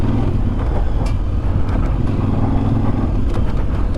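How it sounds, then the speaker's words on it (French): A Voge 800 DSX Rally motorcycle rides a light enduro trail, its engine a steady, loud low rumble mixed with wind buffeting, and a few brief knocks from the rough ground. "On se fait des singles un peu là, histoire de tester la moto un peu dans toutes les conditions"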